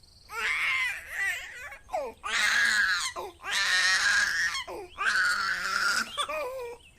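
A baby wails loudly from hunger in long, strained bursts separated by brief gasping pauses, close and distressed.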